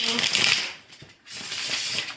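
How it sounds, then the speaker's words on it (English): Tarot cards are shuffled by hand at close range in two rustling, papery bursts of riffling with a short gap between them, moderately loud and with no voices over them. "One more shuffle, I'm feeling one more shuffle."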